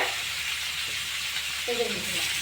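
Thinly cut hilsa fish pieces frying in a pan, a soft steady sizzle with a brief, faint sound of something else midway, with no talking.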